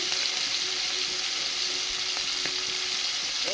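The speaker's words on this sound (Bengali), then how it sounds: "চিংড়ি মাছটা একটু ভাজা ভাজা হয়ে গেছে" Steady crackling sizzle of shrimp frying in hot oil, with a few faint utensil clinks, no voices.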